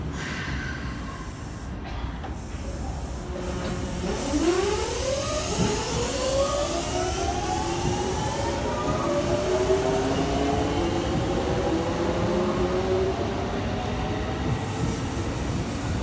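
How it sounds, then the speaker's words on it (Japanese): A Japanese express train to Kyoto pulls away from the platform, its motor whine rising in steady pitch sweeps over a constant rumble of wheels and station noise, close and fairly loud. "はい、急行京都行きに出発しましたね。"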